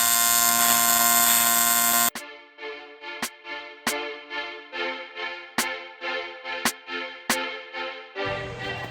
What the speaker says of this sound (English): Final weld, one bracket in place.